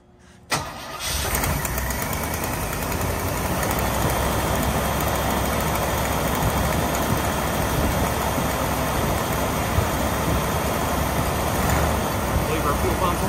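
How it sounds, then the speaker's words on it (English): A 1973 Chevrolet Nova four-door, parked for 32 years, cranks briefly and fires, then settles into a steady, loud, close idle. Speech is faintly present beneath the engine. "All right, this thing is idling right now."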